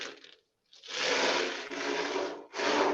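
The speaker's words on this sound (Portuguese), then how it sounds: "Ele lembra o som do mar, né? Dá para você simular as ondas." A homemade ocean drum built from a plastic water jug filled with bicycle bearing balls gives long, rolling hiss-like swooshes of rattling beads, like surf washing in, separated by brief pauses, loud and close with no talking.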